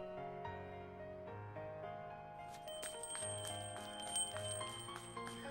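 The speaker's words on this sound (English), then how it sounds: "followed by a ringing of the chime, of the chime at the store entrance" In the visual novel Nekopara Vol. 2, a store entrance door chime rings out as bright metallic bell tones over soft background music, clear and fairly quiet, with no voices.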